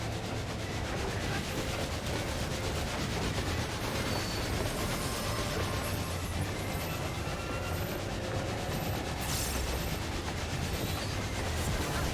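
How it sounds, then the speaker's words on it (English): Train in the video game Final Fantasy XIV, a continuous rumbling, clattering rail roar with faint high squeals that holds steady and fairly loud throughout. "I am fighting a train."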